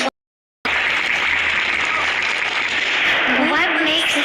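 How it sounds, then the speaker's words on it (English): Crowd applause breaks out aboard the Radiant Feldspar airship in Honkai: Star Rail after a brief silence, a dense steady clapping that carries on loud and unbroken, with a voice briefly audible over it. "We invite you to express your warm applause."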